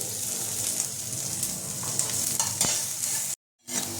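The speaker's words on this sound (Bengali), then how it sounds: "এটা আমি হালকা ভেজে নেব।" Chopped garlic, grated ginger and asafoetida sizzle softly in hot oil with a spoon scraping and stirring, cutting out briefly near the end.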